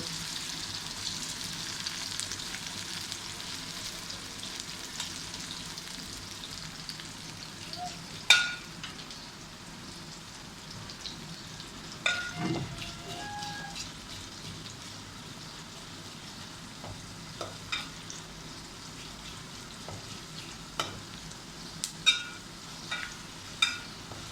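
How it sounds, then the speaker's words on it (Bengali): Onions frying and being stirred in very hot oil, a steady broad sizzle with occasional sharp clicks and scrapes of the spoon, fairly close and without talk. "পেঁয়াজগুলা লাল লাল হওয়া পর্যন্ত আমি লাড়াচাড়া করব"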